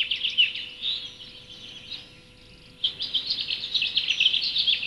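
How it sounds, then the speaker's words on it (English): Mixed birds chattering and calling in a mountain forest, many high chirps and trills overlapping continuously, fairly close, dipping briefly to a quieter stretch midway before the clamour returns. "Soon they are greeted by the chatter of flocks of many kinds of birds, enjoying a noisy and tumultuous clamour in every direction."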